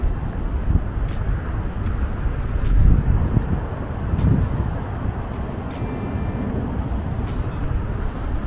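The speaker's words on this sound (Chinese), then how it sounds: "听这边这个蛐蛐叫声多好听啊。" Crickets chirping on an early-autumn day beside an old mill and a large lake in Connetquot River State Park Preserve, a thin continuous high trill over soft outdoor background noise and faint wind, with no voices.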